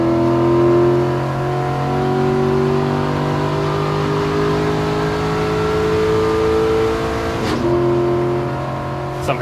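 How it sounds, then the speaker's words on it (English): A grassroots race car's engine drones loudly and steadily as it holds the throttle and climbs in pitch, pulling away down the straight with a brief sharp shift near the end. "For 3rd place, McGrew and Rosenberg, but now the 44 just throttles up, he's gone."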